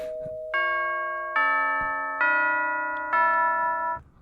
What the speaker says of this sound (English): See, there's the doorbell.